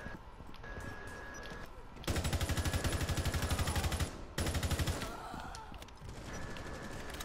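Video game gunshots in a close-quarters fight: rapid automatic bursts stand out sharply over a quieter background, with two loud sustained volleys separated by a brief pause.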